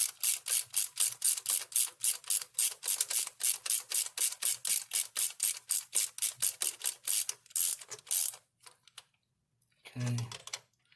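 A hand ratchet tightens intake manifold bolts on a Ford 460 V8, giving a long run of rapid, evenly spaced clicks up close, then a few slower strokes and a short pause.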